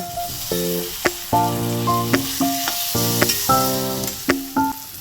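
Chopped tomatoes hit spiced chicken masala in a hot pan, giving a steady close sizzle broken by sharp clinks and scrapes of a spoon stirring against the pan.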